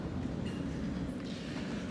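A train rumbles at a station, a dense, steady low roar with faint rail noise throughout and no talking.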